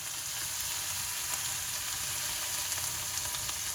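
Eggplant stir-fries in a wok of Thai spicy pork curry, a steady, fairly quiet sizzle and crackle of hot oil that holds evenly throughout with no voices over it.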